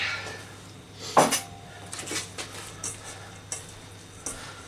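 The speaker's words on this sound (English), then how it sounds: "so I add the salt, and then I mix it well in" Salt being mixed into vegetables in a bowl for vegan koftes, a series of scraping stirs and light clinks of a utensil against the dish, close and intermittent, no talking.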